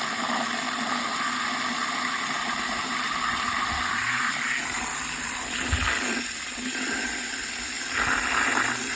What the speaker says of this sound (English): We're just gonna add some water.